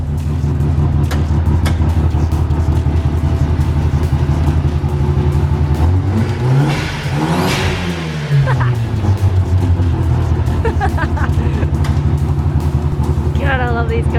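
Mazda RX7 rotary engine idling roughly and revving, a loud close drone with rising and falling sweeps through the middle, set among other cars, while someone talks excitedly over it.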